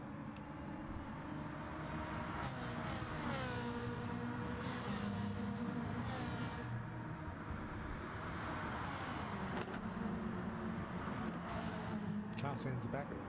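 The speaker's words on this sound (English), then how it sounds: "Car sounds back. That's good." Racing car engines drone in a sim racing game featuring a Ferrari 458 Competizione and an Aussie Hampton M3, a sustained, rising and falling engine whine beneath steady talking from several people.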